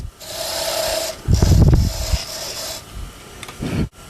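Skew chisel cutting an undercut into wood on a turning lathe: a close, loud rasping scrape, continuous, with a heavier rough burst in the middle and a short final cut before it stops.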